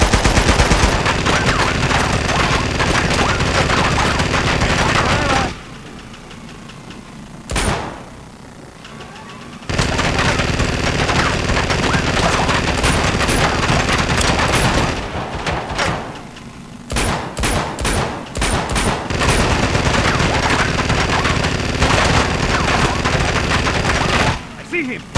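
Rapid automatic gunfire in the video game Uncharted: Golden Abyss, loud sustained bursts broken by short pauses and scattered single shots, close and harsh throughout.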